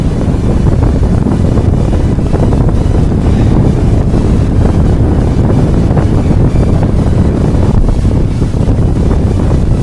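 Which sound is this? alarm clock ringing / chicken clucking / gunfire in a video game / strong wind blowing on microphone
strong wind blowing on microphone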